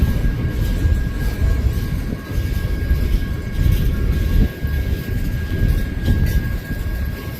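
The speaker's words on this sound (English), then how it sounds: "A lot of grain cars coming up." A long freight train of grain cars rumbles past close by in downtown Galesburg with a steady low roar, the rattle and clank of the cars continuing throughout.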